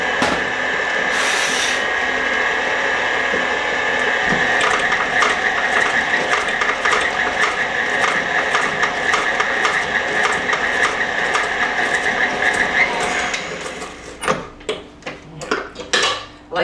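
An electric mixer beats an egg into cookie dough in a bowl, a loud continuous whir with rhythmic clattering of beaters against the bowl, then the motor stops and a few scattered clinks and knocks follow.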